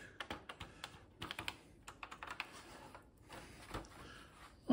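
Typing on a Tesla PMD 85 computer keyboard whose keys stick a little, a quiet run of uneven clicking keystrokes close by, with a louder knock at the very end.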